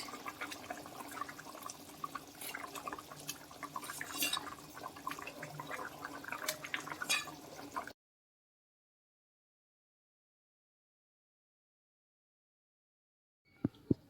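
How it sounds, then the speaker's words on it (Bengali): A pot of rui fish curry gravy with potatoes at a rolling boil, a faint, watery bubbling and churning for several seconds, then silence, then a couple of sharp knocks at the end. "ভালো করে ঝোলটা ফুটে গেছে"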